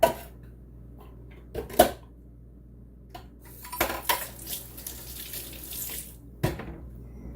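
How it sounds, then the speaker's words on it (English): Kidney beans tumbling into a pot of chili, a few sharp splashy clatters and knocks against the pot, spaced apart over a quiet kitchen background. "dropping kidney bean"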